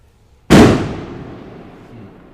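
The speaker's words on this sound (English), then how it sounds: "even with bombs in the distance" A single explosion from a bomb in the distance: one sudden heavy boom followed by a long rumbling decay, alone with no voices.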